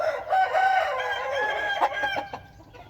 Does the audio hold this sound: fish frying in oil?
no